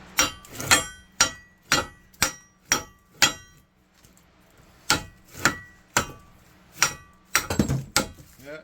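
A small hammer strikes a scrap copper transformer in sharp metallic blows, about a dozen hits in a steady rhythm with a brief pause midway, close and loud.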